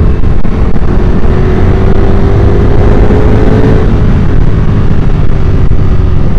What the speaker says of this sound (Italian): Panigale V4S con termiglioni 4 uscite, bellissima moto, bella sensazione, il sound lo sentite, spero.